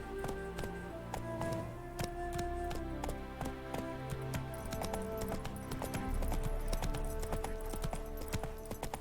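A horse gallops in The Witcher 3, its hooves striking in a quick, steady clip-clop rhythm that carries loud and close throughout over faint game ambience.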